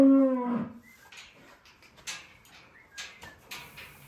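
Cattle in a farm shed give one loud, drawn-out moo at the start, followed by scattered knocks, shuffling and clatter as the cows are penned back.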